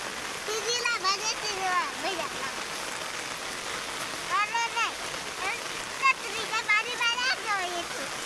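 Rain falls on a farm as children walk through it, a continuous hiss of drops and splatter under close, frequent talking voices.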